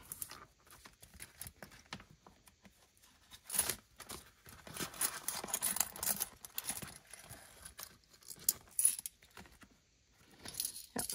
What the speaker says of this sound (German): Werde ich jetzt hier noch kurz das Kleingeld rauswechseln.